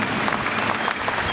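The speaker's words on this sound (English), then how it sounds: "one more round of resounding applause for the graduates" An audience applauding graduates at a commencement ceremony, giving dense, steady clapping that fills a large hall without any voices over it.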